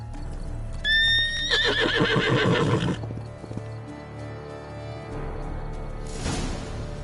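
Roach, a horse in Witcher 3, gives a loud, clear neigh early on, then muffled hoof thuds, with a rustling swoosh near the end and faint background ambience.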